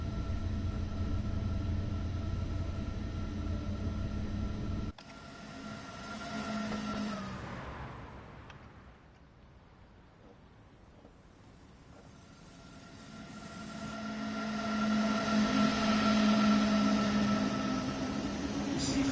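A DB BR 101 electric locomotive in Train Sim World 2 hums and whines through a steady run, its tonal drone fading to a quieter stretch midway and then swelling back louder near the end, with no talk.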